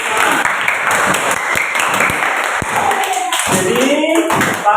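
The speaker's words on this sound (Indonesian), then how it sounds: "Tepuk tangan untuk Mas Bian dan Mbak" A classroom of pupils claps for two students during a religious studies lesson, with steady, fairly close applause under a continuous tone and some voices.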